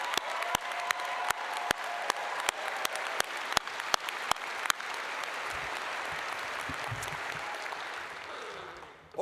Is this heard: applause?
yes